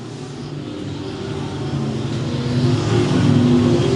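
Engines of Power Wheels compact race cars drone steadily as the cars come out of a turn on a dirt track, a continuous mid-pitched roar that grows louder and closer over a few seconds.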